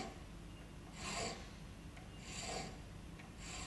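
A hand file rasps across the top of a metal thread in slow, repeated strokes, three faint scraping passes separated by quiet pauses, close by with no talking.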